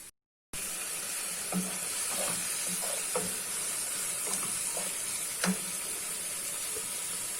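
Spinach, salt and black pepper roasting in a pot for a spinach and rice dish, a soft even sizzle with occasional light spoon taps and scrapes, fairly quiet and close, following a short silent gap at the start.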